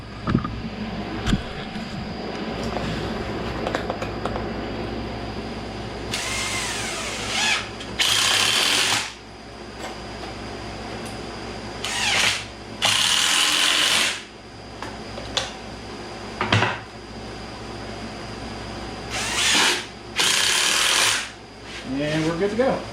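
Power drill driving screws into pallet wood end table parts, several loud high whirring bursts in quick succession with pauses between, against a steady background hum.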